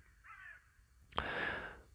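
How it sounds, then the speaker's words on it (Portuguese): Crow cawing near a morning drone flight with a Mavic 2 Pro, a harsh raspy call or two standing out over light outdoor background noise, with a brief broadband burst as the clip ends. "pássaro ali a voar, corvo aqui"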